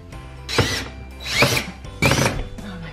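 A power drill drives screws into a wall to mount a curtain rod, in three short whining bursts that rise in pitch, separated by brief pauses, close and fairly loud.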